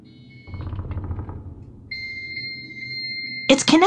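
Modem dialing tones from the video game Thimbleweed Park: a short burst of dial noise, then a steady paired tone that holds for a second and a half, followed by a sudden loud, harsh screech as the connection handshake begins.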